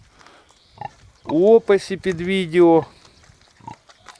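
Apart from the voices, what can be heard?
piglets grunting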